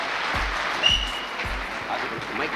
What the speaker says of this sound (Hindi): एक जोरदार ताली मिसेस वंदना जी के लिए